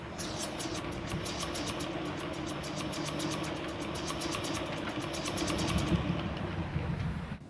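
Breath blown into a small model steam engine sets its flywheel spinning, producing a steady airy rush with a fast mechanical ticking chatter that runs evenly and then cuts off near the end, close by and without speech.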